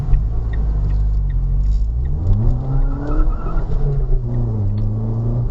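A loud Ford Fiesta ST150 engine rumbles and revs, the pitch rising and falling as it accelerates past, with a raspy exhaust tone.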